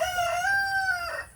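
A backyard rooster crowing once in a clear, drawn-out call, moderately near, with faint background noise.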